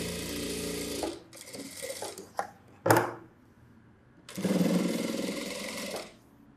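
Electric sewing machine stitching a blouse, running in two clear bursts of rapid, steady whirring separated by short pauses and a few clicks, close and alone.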